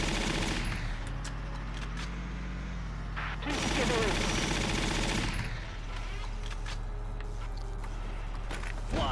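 Rapid bursts of gunfire from a Valkyria Chronicles battle ring out loud and dense, with heavier volleys midway, over a continuous din of in-game combat.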